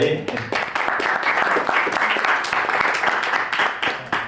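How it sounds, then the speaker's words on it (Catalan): Audience applause for content creators named best family content of the year at a Valencian-language content creation gala. Loud, dense clapping runs continuously throughout, with some voices mixed in. "un aplaudiment per a elles"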